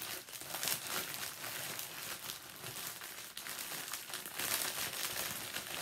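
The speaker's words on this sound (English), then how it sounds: "I'm sorry for all the crinkling." Plastic packaging bag crinkling steadily as diamond painting kits are put back into it during an unboxing, a close, continuous rustle with louder bursts, no talking.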